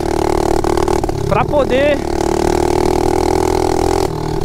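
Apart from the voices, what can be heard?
mini motorcycle engine revving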